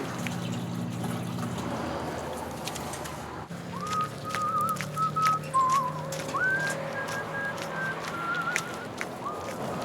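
A man whistles Waltzing Matilda outdoors at Joshua Tree, a clear, moderately distant melodic whistle with held and gliding notes over soft background noise.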